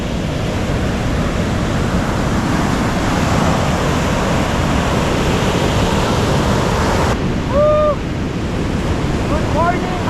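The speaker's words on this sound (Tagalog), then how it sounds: "Mataas pa sa atin yung alon eh." High ocean waves crash and roar continuously at Tibu Tidal Pool in Casiguran, Aurora, with loud, steady surf and wind buffeting the microphone, and a brief voice or bird-like call near the end.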